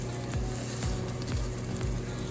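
Onions and small pieces of salmon patty sizzle steadily in a hot frying pan, a constant close crackle with faint rhythmic scraping strokes repeating every half second or so.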